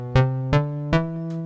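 JP-MG Bass synth patch on a Roland MC-303 groovebox, three bright plucky notes with a sustained tonal drone underneath, then a fainter fourth note, played alone and fairly quiet.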